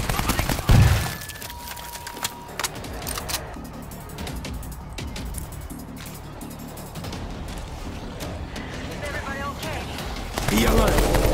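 In the Tokyo Has Fallen shooter, bursts of machine gun fire crack out, loudest near the start, then continue as scattered shots under a busy battle mix, with voices talking over the action.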